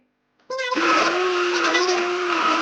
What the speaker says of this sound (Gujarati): ખજૂર આમલીની ચટણી પીસાઈને થઈ રહી ગઈ છે.